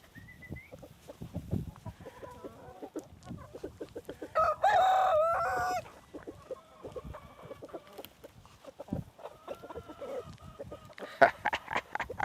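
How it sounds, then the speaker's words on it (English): Farmyard chickens on a small farm cluck steadily throughout, with a rooster crowing loudly near the middle and scattered cackles toward the end. "And we call the chickens."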